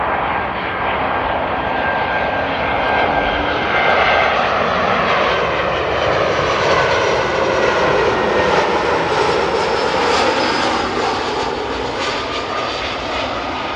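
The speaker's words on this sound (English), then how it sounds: "next up, looks like a Lufthansa A320." A Lufthansa Airbus A320 landing at Amsterdam Airport produces a loud, continuous jet engine roar that holds for the whole stretch, close and unbroken, with no one speaking.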